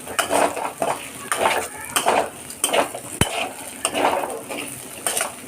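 Fried potatoes and shrimp being lifted out of a wok with a metal spatula, giving repeated scraping and clinking strokes at an even rhythm, close and fairly loud, with one sharp knock partway through.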